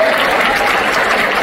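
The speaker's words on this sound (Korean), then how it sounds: "여러분 박수 한번 부탁드리겠습니다." An audience claps at a football club owner's talk concert, a short burst of loud, dense, even applause from a crowd filling the whole moment.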